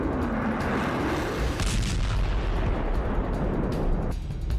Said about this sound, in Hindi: पहले देख लीजिए इस युद्धाभ्यास के दौरान कौन कौन सी मिसाइल और बम को आजमाया गया